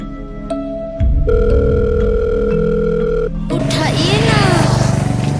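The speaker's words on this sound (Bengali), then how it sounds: "একটা বন্ধুদের কল করি" A telephone call being placed to a friend produces steady electronic ringing tones in clear, sustained bursts, followed by a busier, noisier stretch at the end.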